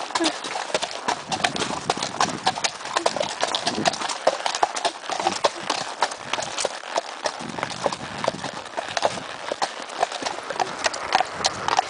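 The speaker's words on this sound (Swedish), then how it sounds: "Försöka hålla stilla på en häst som skumpar." Horse hooves clip-clop in a steady trotting rhythm while riding around Lingåsen, close and continuous, with people talking over the bouncing gait and an occasional whinny-like note.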